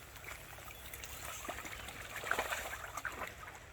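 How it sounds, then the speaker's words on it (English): Steady trickling of a small stream and distant waterfall on a countryside walk between Axminster, Devon and Lyme Regis, Dorset, a soft continuous wash of water with faint irregular bubbling, no voices. "There's the waterfall there."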